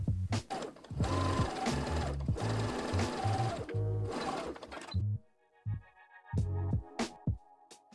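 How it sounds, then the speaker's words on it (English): Sewing machine stitching side pockets to the front and back side seams of overalls, a fast close mechanical rattle for about five seconds, then a few short bursts of stitching. "Sew the side pockets to the front and back side seams at their notches with a 3/8 of an inch or 1 centimeter seam allowance"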